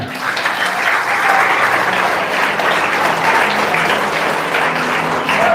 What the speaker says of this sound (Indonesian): Mana kok tidak ada tepuk tangannya?